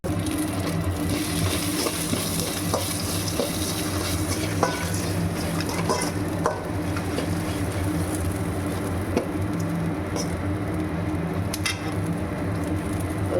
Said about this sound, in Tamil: முந்திரி கொஞ்சம் நல்லா வதக்கலாம்